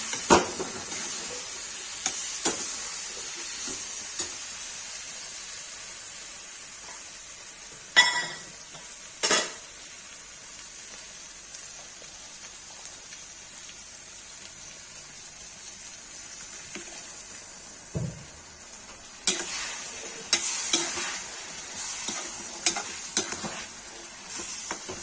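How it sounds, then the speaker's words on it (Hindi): Tomato and brinjal curry bubbling and sizzling in a pan, a soft continuous hiss with scattered scrapes and clinks of a stirring spoon against the pan, clustered near the start and end, no talking. "गाइस देखिए टमाटर बैगन की सब्जी बन रही है"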